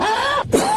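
A woman gives a single harsh, wet cough, bringing up liquid vomit. The burst is loud, close and brief, with a short gasping break in the middle.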